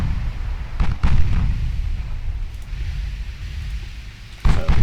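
Heavy battleship gunfire in the naval combat game Ultimate Admiral Dreadnought, with a 70,000-ton ship in battle: deep rumbling booms, with a strong blast near the start and another near the end over a continuous low roar.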